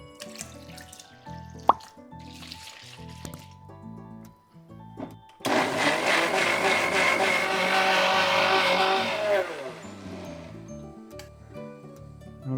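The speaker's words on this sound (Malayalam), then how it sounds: "ഇത് വെള്ളം ഒഴിച്ചരയ്ക്കാം നമുക്ക്" Mixer grinder blending halwa batter with water: small pours and clinks first, then the motor bursts into a loud, steady whirring roar for several seconds before winding down.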